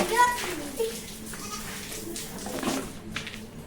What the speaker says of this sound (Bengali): দেখো গাইস জল দিয়ে কখন থেকে এরা খেলছে